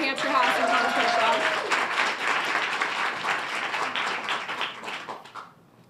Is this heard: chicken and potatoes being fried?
no